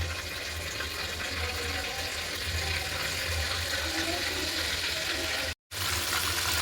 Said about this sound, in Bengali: এখন আবারও কিন্তু ভেজে নিচ্ছি। এই যে তেলে দিয়ে দিচ্ছি।